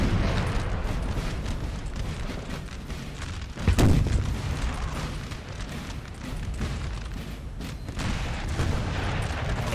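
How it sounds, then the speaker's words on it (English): Napoleonic Total War 3 video game battle with artillery firing and shells exploding, one sharp close boom standing out over a continuous dense rumble of distant cannon and battle noise. "The artillery exploding, more artillery firing, infantry marching past."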